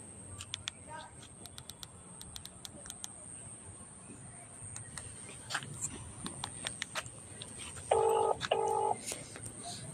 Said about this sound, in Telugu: ఇప్పుడు ఫోన్ చేద్దాం స్పీకర్ పెట్టు